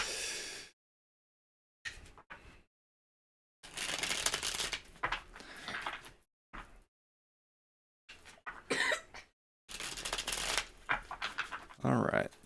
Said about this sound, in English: Properly shuffled, properly cut.